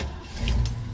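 A 1970 Ford Bronco engine turns over and catches, a short low rumble that settles into a steady idle, close and fairly loud.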